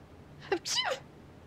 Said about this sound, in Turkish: Bak akşamdan beri hapşırıyorsun